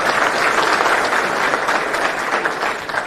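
Loud, dense applause from a large crowd at a political welcome rally in Kudal, many hands clapping together in a sustained roar that eases off only slightly over a few seconds.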